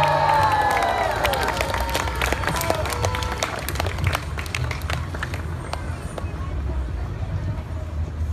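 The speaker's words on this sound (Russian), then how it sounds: "Ваши аплодисменты." At a Ratha Yatra festival, a crowd claps and cheers as a guest is welcomed onto the stage, with dense hand claps and crowd noise at first that gradually thin and fade.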